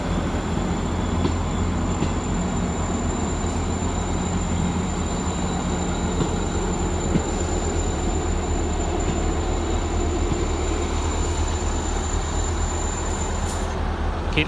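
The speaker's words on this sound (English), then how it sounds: "Keep the camera rolling to see the South Western Railway go out." A South Western Railway train departs Exeter St David's with a steady loud rumble of wheels and engine and a thin high squeal running through, close and continuous without speech.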